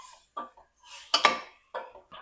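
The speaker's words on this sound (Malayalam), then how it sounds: "ഇനി നല്ലോണം ഒന്ന് ഇളക്കി കൊടുക്കണം." Utensil scraping and clinking in a pan while beef curry mixture is stirred, a few short uneven bursts of scraping with gaps between them, close and fairly loud.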